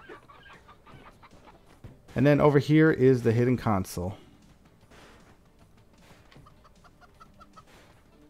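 Chickens in the video game Moving Out cluck in a loud, close burst of rapid squawks lasting about two seconds. Faint game noise fills the gaps, and someone talks before and after.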